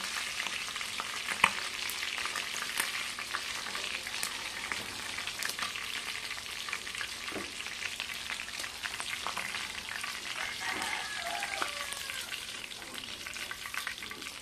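Fish frying in hot oil in a home kitchen, a continuous close crackling sizzle with occasional sharper pops and stirring clatter, no talk.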